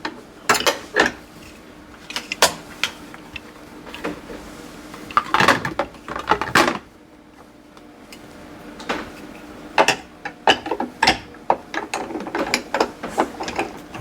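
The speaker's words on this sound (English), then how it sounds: "pulling down will open the chamber, and that will let the ice cream or slushy mix come down, and then all the way up will keep that sealed" A soft serve ice cream machine's lever is pivoted down and back up, giving a series of sharp, close ratcheting mechanical clicks in irregular bursts, with no talk.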